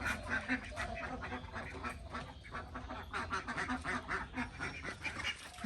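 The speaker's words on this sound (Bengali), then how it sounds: "এখন হাঁসগুলো চিল্লাপাল্লা করতেছে।" Ducks quack noisily and continuously as their coop is opened, many birds overlapping in a busy, rhythmic clamor close by.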